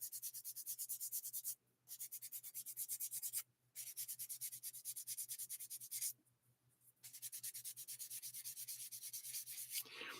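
Steady rhythmic sanding of a surface, a close, continuous scratchy rasp of back-and-forth strokes with two brief pauses.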